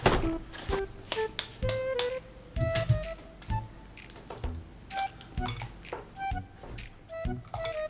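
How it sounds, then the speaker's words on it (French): A utensil clinks and taps repeatedly against a bowl while eggs are mixed into batter, making sharp ringing strikes in an uneven, busy rhythm, close and fairly loud. "Ajoute 3 œufs et bien mélanger"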